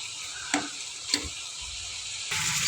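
Tomatoes with salt sizzle steadily in a pan while cooking down for a tomato roti pachadi, with two sharp stirring clacks early on and the frying growing slightly louder toward the end; no one speaks.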